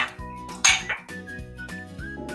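Plates, pots and utensils clatter and clink while dishes are being washed at home, with a bright ringing knock near the start and softer scraping and bumping through the rest, close and alone.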